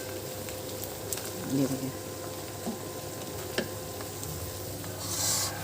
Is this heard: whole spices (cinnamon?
yes